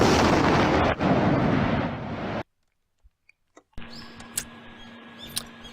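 A cartoon cannon fires three people off into a forest: a loud, sustained blast and rush of noise lasting about two seconds, cut off abruptly, then a few faint ticks and a quieter ambient scene with small accents.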